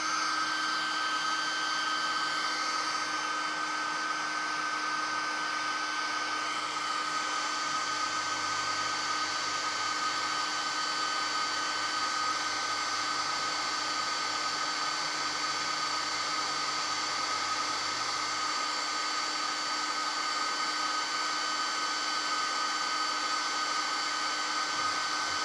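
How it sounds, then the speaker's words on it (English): A hair dryer blows on a freshly inked miniature figure to dry its green ink, giving a steady, continuous whirring hum with a faint whine that runs unbroken and close for the whole stretch. "We'll throw the hairdryer on there, because I don't want that green ink running anywhere else."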